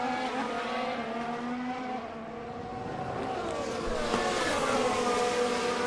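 Formula 1 cars racing in F1 Manager 22 at the Bahrain Grand Prix, a continuous high-pitched engine whine with several overlapping tones rising and falling as the cars pass and overtake.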